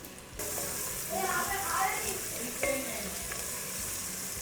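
Sliced onions fry in oil in a pan for drumstick sambar, a continuous bright sizzle with a few soft stirring scrapes and clicks, close and steady throughout.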